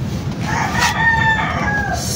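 A breeder's rooster crows once, loud and close, a rising and falling cock-a-doodle-doo over faint background noise.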